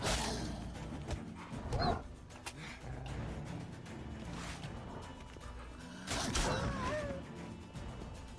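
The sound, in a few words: dogs barking and fighting in video game The Witcher 3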